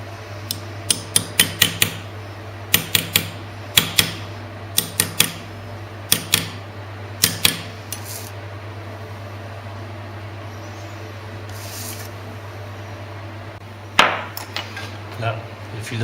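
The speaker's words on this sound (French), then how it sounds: "Puis maintenant je vais insérer directement le fil d'or dedans." Gold wire is inlaid into steel for damascening, heard as sharp, close metallic taps in short irregular bursts with pauses between, over a low steady hum.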